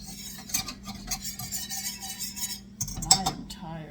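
Whisk stirring pork chop gravy made with vegetable stock in a pan, with soft continuous scraping and light metallic clinks against the pan, close and moderate in volume, without talk.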